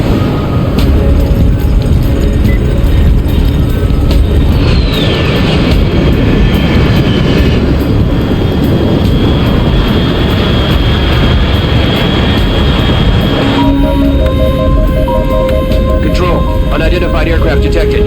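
Aircraft approaching in the Metal Gear Solid 3 video game, a continuous loud engine roar that swells steadily, with game voices speaking over it.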